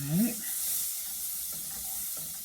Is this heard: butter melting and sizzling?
yes